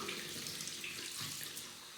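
Running tap water rinses the brush head of an Olay Regenerist face-cleansing device, a steady, close rush of water under the faucet with no speech.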